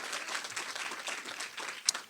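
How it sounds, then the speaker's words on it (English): An audience at a Blacks In Technology community event applauds, a soft, steady patter of clapping hands heard from a distance for about two seconds. "could we get a round of applause if y'all would like for us to do this again?"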